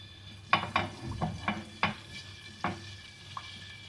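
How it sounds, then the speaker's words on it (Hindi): Garlic cloves frying lightly in a pan for a tomato pizza sauce, heard as a quiet sizzle broken by several sharp clinks and scrapes of a spoon stirring against the pan. "हल्का सा इसको फ्राई कर लेंगे।"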